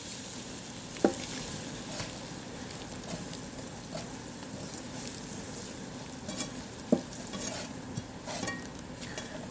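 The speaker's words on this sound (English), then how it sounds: "You just keep stirring it in there." Stirring flour into hot fat in a large turkey pan for a roux: a steady sizzle with scraping spoon strokes and occasional metallic clinks against the pan, close by and without talk.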